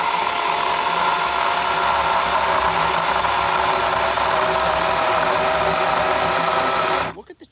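A DeWalt 60V FlexVolt 20-inch chainsaw revs steadily while cutting through wood, a loud, dense, unbroken motor whine lasting about seven seconds before it cuts off abruptly.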